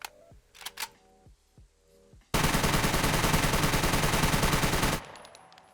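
An AK-15 rifle in the SCUM video game fires in a sustained automatic spray lasting a few seconds, loud and dense, preceded by a handful of single clicks and shots.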